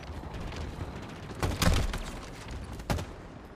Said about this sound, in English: Oh, I can throw grenades from the vehicle.